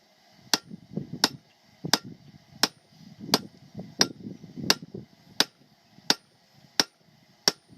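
Sharp metallic hammer blows ring out at a steady pace in a forge, about a dozen strikes, each with a bright clang over a low rumbling background.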